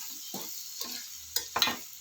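Chili powder sizzles in a hot pan during tempering for vagarane rice, a steady frying hiss broken by a few short scraping stir strokes, close and without talk.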